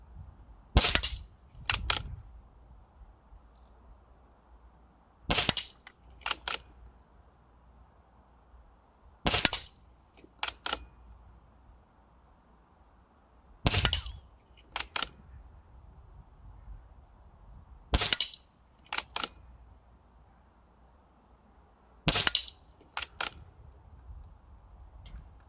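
Air Arms S410 PCP air rifle firing a series of shots outdoors, each sharp crack followed by a quick second pop of pellet impact, paired shots spaced roughly every four seconds against a quiet background.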